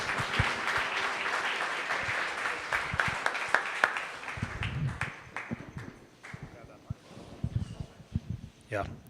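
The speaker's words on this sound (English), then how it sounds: "Can we please stand and give Bradley Elliott a round of applause" An audience rises and applauds to welcome Bradley Elliott, a speaker on online retail and e-commerce trends in South Africa; the clapping is dense at first, then thins into scattered claps and shuffling as people settle.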